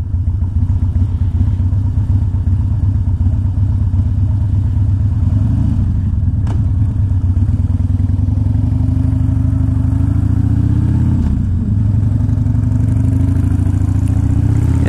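A carbureted 2001 Harley Davidson Dyna Wide Glide V-twin idles close up after warming, a loud, steady, lumpy low thrum with a slight rise in pitch later and no talk.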